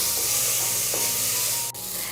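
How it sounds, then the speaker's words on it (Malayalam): Sliced onions sauté in a pressure cooker as the base for a beef curry, sizzling steadily and fairly close, with a brief scrape of stirring partway through and no voices. "ഇപ്പോൾ നമ്മുടെ സവാളയെല്ലാം നല്ല രീതിയിലൊന്ന് വഴണ്ട് തുടങ്ങിയിട്ടുണ്ട്."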